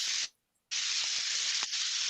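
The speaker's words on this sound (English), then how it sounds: "That's the sizzle. There it is." Braised beef sizzles in a very hot cast iron pan, a loud and steady hiss that stops briefly and then comes back strong with a few crackles.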